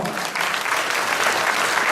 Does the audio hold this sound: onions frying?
no